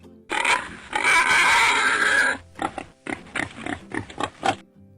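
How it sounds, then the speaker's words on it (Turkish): A pig grunts and oinks: a long, rough, noisy squeal followed by a series of short, snorting grunts, loud and close, with no talking. "Domuzlar böyle ses çıkarır."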